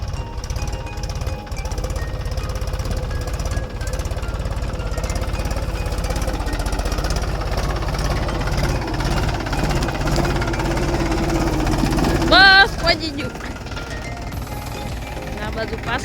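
A tractor engine chugs steadily throughout while sowing cumin in a field, a loud, rhythmic diesel knocking drone with a brief high squeal near the end.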